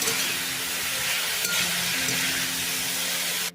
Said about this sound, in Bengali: শাকটা এবারে নাড়াচাড়া করে ভালো করে শাকটা এবারে একটু সময় ধরে বেশ সুন্দর করে ভেজে নিলাম